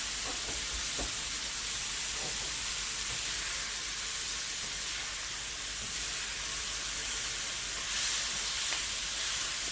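Tofu browning in safflower oil in a pan, frying with a steady, close sizzle and hiss that holds evenly throughout, with a few faint clinks of stirring early on.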